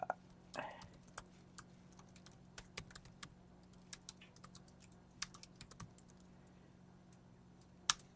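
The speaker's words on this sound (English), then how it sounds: "I'm going to type in" Typing on a computer keyboard while entering an email address, a quiet, irregular run of light key clicks with occasional louder taps, close by against a low steady hum.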